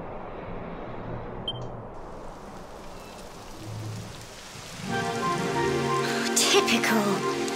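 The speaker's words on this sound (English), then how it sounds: "Typical. It would have to go and start raining, wouldn't it?" Rain starts falling in the video game Dragon Quest XI, a soft hiss at first that swells about halfway into a denser, louder patter of drops on surfaces, with faint background tones underneath.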